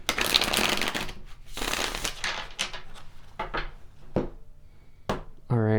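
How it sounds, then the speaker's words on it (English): A deck of tarot cards is shuffled by hand, with a long run of crisp riffling and flicking followed by a few separate snaps as the cards settle. The sound is close and clear, and no one speaks over it. "And I think one more shuffle here."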